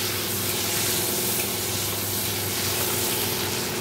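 Fish frying in hot oil in a home kitchen: a steady, dense sizzling hiss that holds at an even level throughout, close and continuous, with no talking.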